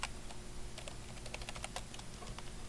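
Keys clicking on a computer keyboard while a filename is entered for a lathe post-process job in Fusion 360, a quick uneven run of soft, close keystrokes over a steady low hum.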